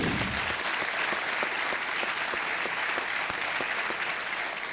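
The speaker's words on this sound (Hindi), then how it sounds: "तालियों के साथ हम आपका अभिनंदन करते हैं" Studio audience on the KBC game show applauding, a dense steady clapping close and loud throughout, with faint talk underneath.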